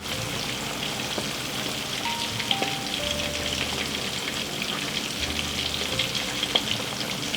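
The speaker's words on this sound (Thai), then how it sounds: "ก็คือแซะไม่ให้มันติดกันเฉยๆนะครับ แล้วก็ทอดไปเรื่อยๆนะครับให้มันแบบเหลืองกรอบเลยนะครับ" Salted chicken wings deep-fry in oil, a dense, even bubbling crackle like steady rain that runs close and unbroken throughout, with a few light scrapes of a utensil.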